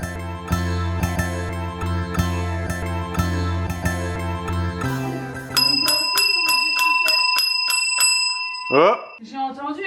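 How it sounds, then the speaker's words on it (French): A bright, rapid bell rings repeatedly for a few seconds after a stretch of other sound, clear and fairly close, and voices are heard in the background. "C'était les cloches?"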